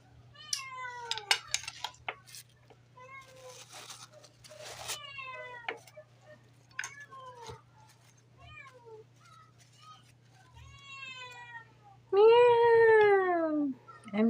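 A cat meows repeatedly, in short rising and falling cries with gaps between them, ending in a longer, louder drawn-out yowl; faint clinking sounds in the background.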